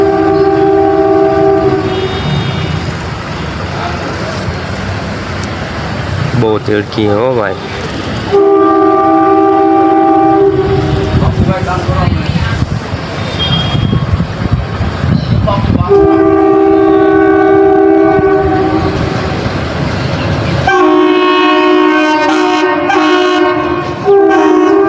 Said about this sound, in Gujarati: હવે ટ્રેન નીકળી તો ટ્રેન જોવા આવ્યા